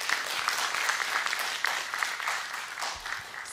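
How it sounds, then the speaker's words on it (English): Audience applause for the speakers at a university white coat ceremony, a steady wash of many hands clapping that holds fairly loud throughout, with no voices over it. "I would like everyone to give our speakers a big round of applause"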